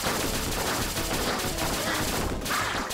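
Rapid gunfire in the action game 20XX, a dense, continuous barrage of shots and impacts mixed with game effects and music, loud throughout with no pauses.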